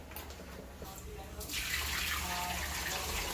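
Water streams and spatters from two pairs of wet hiking socks and a pair of gaiters being wrung out, a soft trickle that swells into a steady, close splashing pour partway through.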